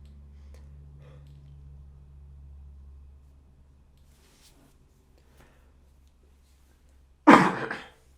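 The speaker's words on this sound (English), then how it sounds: "I'm coughing up shit. Don't need to be coughing up." A single sharp cough bursts out near the end after a quiet stretch with a low hum in the background.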